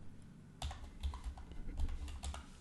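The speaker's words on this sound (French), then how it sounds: "vous pouvez commencer à développer ou à taper des commandes Python" Python commands typed on a computer keyboard: after a quiet moment, a steady run of soft, close keystrokes clatters at a moderate pace with no voice.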